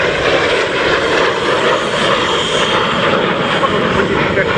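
A propeller aircraft flies at the RAF Cosford Airshow, its loud, continuous engine roar filling the air while a commentator talks over it.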